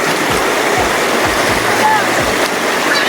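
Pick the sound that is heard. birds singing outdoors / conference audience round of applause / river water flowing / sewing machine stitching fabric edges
river water flowing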